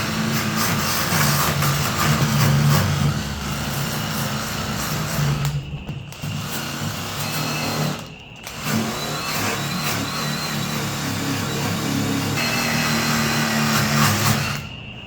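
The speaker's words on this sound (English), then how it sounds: "you start hitting it with a wire wheel" Wire wheel on a grinder scouring rust off the chassis rail of a VJ Dodge ute, a continuous loud rough whirring grind with brief dips where the tool lifts off, close up and without speech.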